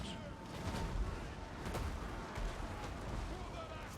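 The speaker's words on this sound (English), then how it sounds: "Hear those cannons roar" Cannons of a Total War Warhammer 2 battle fire as a dense roar of booms rolling under battlefield din, with a few stronger thumps rising out of the steady wash of noise.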